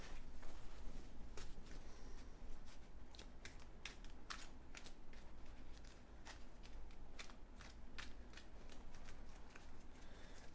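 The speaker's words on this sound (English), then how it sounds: "we'll give them a quick shuffle" Expedition encounter cards from the Eldritch Horror board game are shuffled by hand in a steady stream of quick, light riffling clicks that stay at an even, fairly quiet level throughout.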